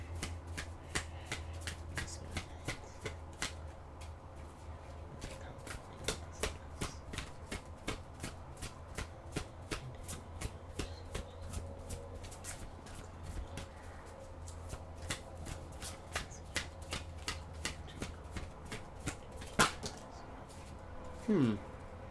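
Tarot cards being shuffled in a quick, steady run of crisp riffling flicks and snaps, close and fairly loud, continuing for the whole stretch over a low hum, with no speech.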